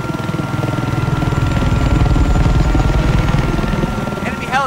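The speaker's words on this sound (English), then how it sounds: "Enemy helicopter spotted." A helicopter in Battlefield 4's Paracel Storm map thumps steadily with a loud, close engine drone throughout, a brief higher-pitched whine near the end.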